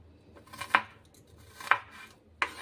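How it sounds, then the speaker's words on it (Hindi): A knife chops through onion on a board, three sharp, distinct cuts spaced unevenly against a quiet kitchen background. "प्याज को मैंने काट लिया है।"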